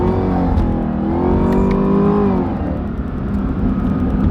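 A car engine in a racing simulator revs hard and blips through downshifts, rising and falling tones in a loud, continuous drone with no pauses.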